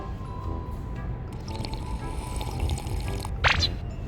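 Coca-Cola poured into a glass at a seafood meal, a short fizzy splash of liquid near the end over steady restaurant background noise.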